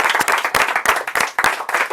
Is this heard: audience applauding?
yes